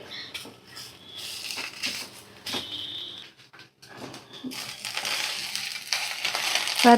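Taro simmering in a milky curry is stirred in a pan over a high flame, giving a steady sizzling hiss broken by soft scraping and patting strokes, close up and with no talk.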